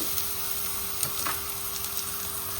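Beans, capsicum and carrot fry in a hot pan with a steady, loud hiss and crackling sizzle throughout, close up and without talk.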